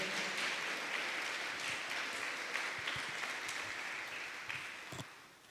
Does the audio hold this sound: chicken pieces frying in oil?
no